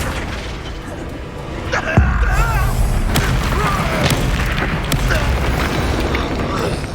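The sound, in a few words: spell explosion in Hogwarts Legacy video game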